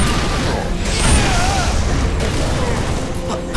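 An explosive pack blows up during Halo: Reach gameplay, a loud booming blast amid dense layered game effects and rumbling noise that fill the whole stretch.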